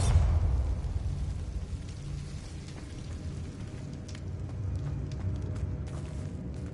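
A Bombarda spell explosion in the Hogwarts Legacy video game, opening with a loud low blast that decays into a long rumbling, crackling tail, with faint debris-like clicks scattered through it.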